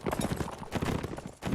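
Horse hooves clip-clop in a medieval battle video game, with Saranid cavalry moving in the open: a brisk, fairly steady run of close hoofbeats alone, growing louder at the end.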